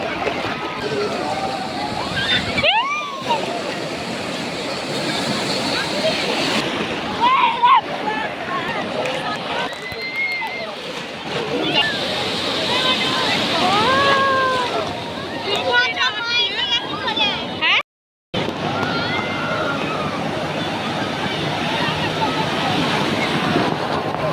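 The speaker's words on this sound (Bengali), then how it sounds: "বিশাল বড় বড় ঢেউগুলো আসছে" Big sea waves roll in and break at Digha beach, a loud continuous surf roar under heavy wind buffeting the microphone, with people talking and calling out over it and a brief dropout near the end.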